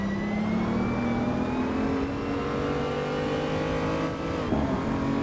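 Continuous loud engine drone from a pack of BMW M235i race cars in a virtual racing game at the Nürburgring, the pitch rising steadily as they accelerate, with a brief dip and gear shift near the end.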